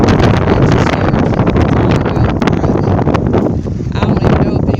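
Strong wind roars across the microphone during a Denver blizzard, loud continuous buffeting and rushing gusts that never let up, heard outdoors up close.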